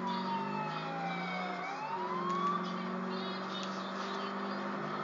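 Ambulance siren wailing close by throughout, its pitch sweeping down and then back up over traffic and engine rumble, with no talk.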